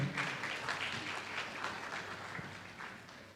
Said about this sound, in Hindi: मुरली साहब के लिए जोरदार तालियां हो जाए